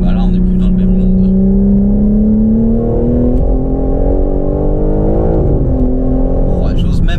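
A stage 2 tuned BMW M4 Competition G82 accelerates hard, its loud, close engine note climbing steadily in pitch, with a brief shift-like break near the middle before pulling again.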